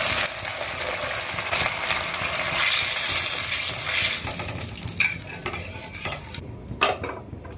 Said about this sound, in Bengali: দেখো ঝোল ফুটছে